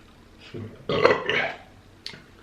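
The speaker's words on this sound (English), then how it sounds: "always the burp when I'm trying to talk about something serious" A loud close burp during a taco mukbang, one drawn-out belch with a short tail, followed by a faint small sound.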